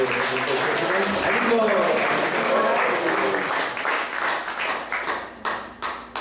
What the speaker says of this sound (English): Let's give a round of applause for Shikhi mahiti.